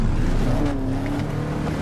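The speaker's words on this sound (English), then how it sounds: "they are revving up the engine now" Race car engines rev and drone together on the starting grid before a sim race, a dense, continuous roar with a rising engine tone, loud and steady throughout.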